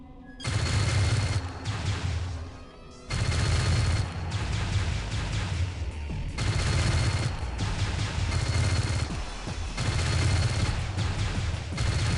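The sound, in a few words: cannon fire from video game Starlancer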